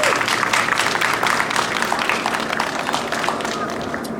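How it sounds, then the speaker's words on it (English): Crowd applause at a Temple City Veterans Day ceremony after the Brighter Side Singers perform the national anthem, a steady dense wash of clapping that holds loud throughout and tapers slightly toward the end. "Let's give them a big round of applause for that beautiful rendition."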